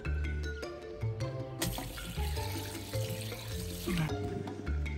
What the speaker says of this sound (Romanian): Și ai dat drumul la apă din piscină!